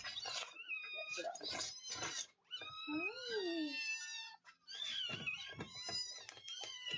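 Cats meow and caterwaul insistently at feeding time, a run of rising and falling yowls, some long and wavering, close and loud, with a voice speaking between them.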